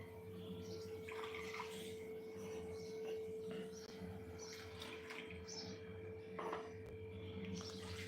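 Hot water pours steadily into a pot of misal with a continuous splashing rush, backed by a low steady hum.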